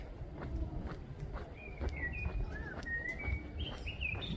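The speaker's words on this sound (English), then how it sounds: "Listen to the birds." Small birds chirp and tweet in scattered, fairly distant calls outdoors near a historic leprosy hospital compound in Jerusalem, against a steady background rumble with faint footsteps.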